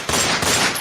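Gunshots fired in a rapid, dense burst, loud and harsh, filling under a second with no talk.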